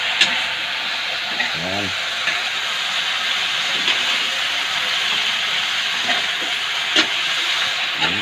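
Spicy chicken feet adobo is sautéed in a pan with a continuous loud hiss of frying and a few clinks of utensils, while someone speaks briefly.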